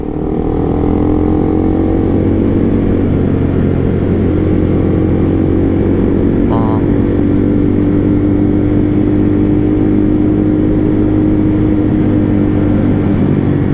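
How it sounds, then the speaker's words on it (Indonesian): A big motorcycle passes on a city road near Senayan City during a Sunday morning ride, its engine drone blending into a constant loud roar of the rider's own engine and wind. "Tuh mogenya tuh, anjay"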